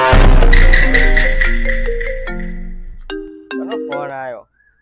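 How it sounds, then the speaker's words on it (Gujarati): A phone ringtone plays loudly and close, a bright melodic electronic tune of repeating tones that fades out, followed by a short voice answering. "ફોન આવ્યો."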